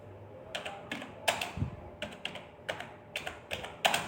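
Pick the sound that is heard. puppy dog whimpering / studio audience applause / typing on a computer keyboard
typing on a computer keyboard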